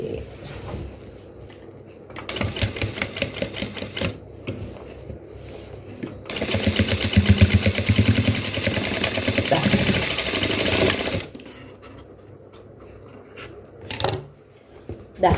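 A sewing machine stitches a crop top in bursts: a short rattling run of stitches, then a longer steady run of several seconds, with quiet pauses between them.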